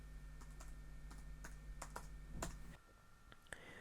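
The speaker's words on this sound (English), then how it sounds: "I will just put the password in without having to skip this section of the video" Keys on a Mid 2012 15-inch MacBook Pro keyboard tapped one at a time to enter a Wi-Fi password, a quiet irregular patter of distinct clicks close by against a steady low hum, with no talking.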